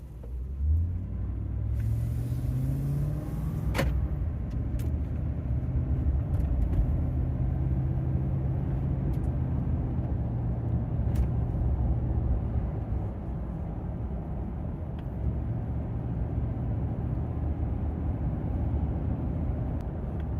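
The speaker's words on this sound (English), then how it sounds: "So we're going to give it a little blip here. Light throttle takeoff." A 2015-2018 Ford F150 with the 5.0 V8 and a Rough Country cold air intake pulls away under light throttle, its steady low engine rumble rising gently and holding alone throughout.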